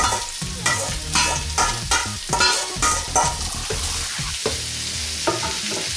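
Vegetables sizzling in a pan for black rice with cuttlefish and prawns, loud close frying hiss broken by repeated rhythmic scraping and stirring strokes.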